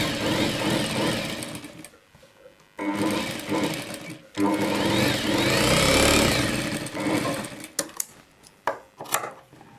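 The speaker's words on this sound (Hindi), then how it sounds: "उसके ऊपर की सिलाई लगा देनी है।" A sewing machine stitches a kanchali blouse piece in bursts, its rapid mechanical whir running close and loud, pausing and restarting, with scattered clicks and handling noise near the end.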